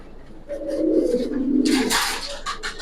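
Giribaz pigeons of the Palla line coo in low, rolling phrases near at hand, with a burst of bright rustling or wing noise in the middle and scattered sharper sounds toward the end.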